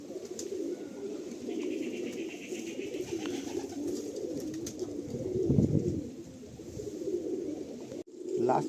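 A flock of Madrasi pigeons keeps up a dense, continuous cooing, close by, with a brief dip and cutoff near the end and no voices.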